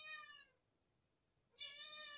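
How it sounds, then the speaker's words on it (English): A pet cat meows twice nearby, two clear, moderately quiet cries separated by a second of near silence, with no talk over them. "my cat"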